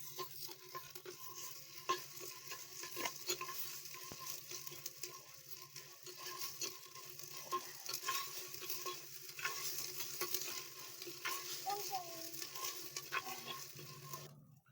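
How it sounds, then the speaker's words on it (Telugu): Ginger paste is stirred and fried in oil with browned onions for a clay-pot biryani, a faint, steady sizzle running under soft, repeated scraping strokes of a spoon across the pan. "దీంట్లోకి ఇప్పుడు అల్లం పేస్ట్ వేసుకుందాం. అల్లం పేస్ట్ వేసుకొని కలుపుకుందాం."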